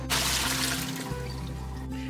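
Water drains steadily off a batch of pickling cucumbers that soaked for hours in plain filtered ice water, a close, continuous wet rush and trickle with no speech over it.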